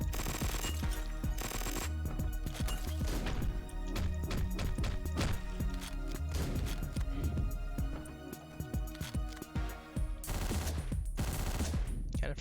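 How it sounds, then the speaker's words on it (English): Uzi submachine gun with a 30-round magazine firing in Hotline Miami, rapid bursts of synthetic gunfire over a dense pulsing electronic soundtrack, loud and continuous. "Let me get a better gun. Let me get that Uzi."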